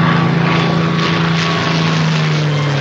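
A propeller plane's engine drones steadily in flight, a loud continuous hum with a low rumble, holding evenly throughout with no voices.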